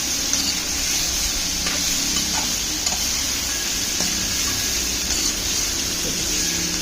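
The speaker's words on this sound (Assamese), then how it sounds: "এতিয়া গোটেই মাংসখিনি একদম মছলা সৈতে 2 মিনিটমান ফ্ৰাই কৰিম" Meat frying with masala in hot oil sizzles loudly and steadily throughout, with faint stirring scrapes and clicks in the pan and no voices.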